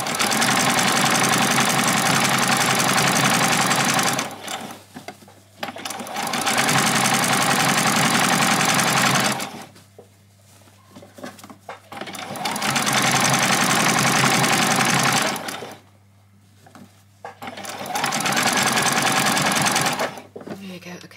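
A sewing machine back stitching a doll's dress whirs in four steady bursts of several seconds each, close up, separated by short pauses with faint rustling of fabric.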